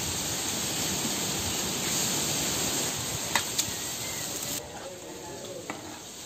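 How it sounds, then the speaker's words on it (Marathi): Fish pieces drop into hot oil spiced with garlic and ground masala, setting off a loud, dense sizzle that later eases, with a couple of sharp utensil knocks. "आता त्याच्यामध्ये हे आपले मच्छीचे टोके टाकायचे."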